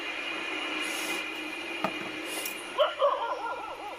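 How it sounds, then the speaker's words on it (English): A group of dogs outside at night barks and yips in short bursts near the end, over a steady background hum, moderately close. "The footage depicts a group of dogs outside barking incessantly at something hidden from view."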